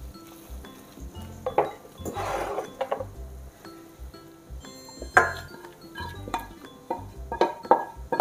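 Deglazed pan juices with white wine being poured into a garlic-rubbed pot for tartiflette, heard as scattered metallic clinks and clatters of pans and utensils with a short splashing pour, close and moderately quiet.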